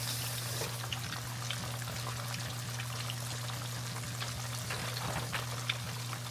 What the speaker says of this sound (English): the fish has been frying for about 7 minutes.